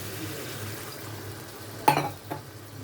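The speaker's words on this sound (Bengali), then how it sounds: "একটু জল দিয়ে দিচ্ছি" Water splashed into a pan of sizzling katla fish curry sets off a sudden loud hiss and bubbling burst, followed by a smaller second flare, over a low steady cooking background.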